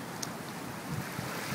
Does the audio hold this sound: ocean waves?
yes